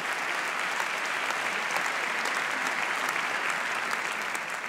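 A gala audience at an awards night breaks into steady, full applause, many hands clapping in a dense, even roar heard from within the hall, with no talk over it.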